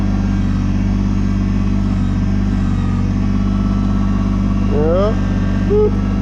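A Kubota BX23S compact tractor engine runs at low speed, moving slowly, with a steady, loud, even drone throughout and a couple of brief tonal chirps near the end.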